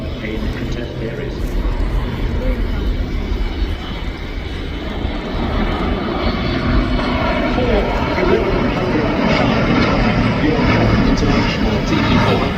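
The TP400 turboprop engines of a Luftwaffe Airbus A400M roar steadily during a tactical flying display, a broad loud drone that slowly builds, with a commentator talking over it throughout.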